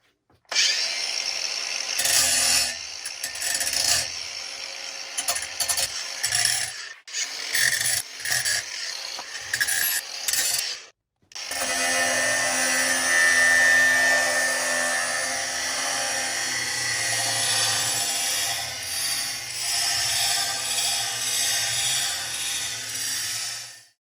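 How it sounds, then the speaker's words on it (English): An angle grinder works on a metal tube, cutting in and out in short loud bursts at first, then holding one steady, harsh, high-pitched grind, close and continuous, with no talking. "There were some spots I just couldn't get to good with the grinder, so angle grinder."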